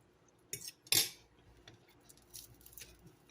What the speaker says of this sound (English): I just enjoy my egg and my bacon